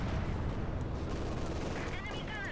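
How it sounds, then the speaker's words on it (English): Mortar fire in Company of Heroes 2, a dense, continuous rumble of battle with booming launches and distant explosions layered under constant gunfire. "A mortars firing away there."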